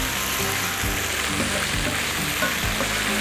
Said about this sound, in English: Now you hear that sizzling?